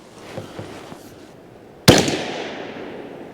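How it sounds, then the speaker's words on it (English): Out on the water, a sharp, loud gunshot strikes an explosive target and cracks into a single burst, with a long decaying rumble after it. A few faint knocks come before the blast. "I'm shooting at the top target."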